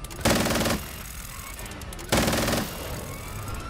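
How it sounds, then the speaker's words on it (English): Two loud bursts of rapid automatic gunfire from a Call of Duty-style multiplayer match, each lasting about half a second, with quieter game ambience and faint background noise between them. "they're shooting me in the fucking back"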